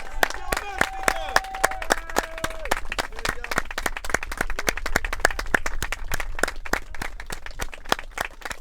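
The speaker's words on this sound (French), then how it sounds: "On peut les applaudir pour leur engagement." A crowd claps steadily at a university sports championship final, a dense patter of applause that holds throughout, with a voice speaking briefly at the start.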